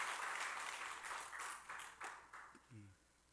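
Congregation at a Korean Sunday worship service for a church's 42nd anniversary claps in a scattered, uneven burst that thins out, with a voice breaking in near the end.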